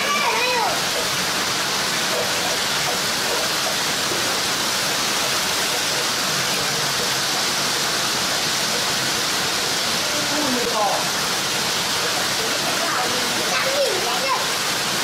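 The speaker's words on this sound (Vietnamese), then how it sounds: "Ôi, mưa, mưa, mưa, mưa" Heavy rain pours in a dense, steady roar of broadband hiss that never lets up, with brief voices showing faintly through it now and then.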